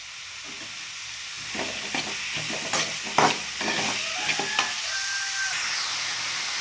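Onion sautéing in a pan with a little salt sizzles steadily while it is stirred, with scraping clatters and a few sharp clinks from the utensil against the pan, close and fairly loud, with no talking.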